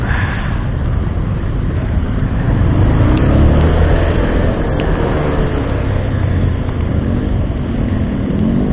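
Dense stop-and-go traffic in a rain-soaked jam, with a steady close rumble of car and bus engines and road noise that swells slightly midway, with no talking.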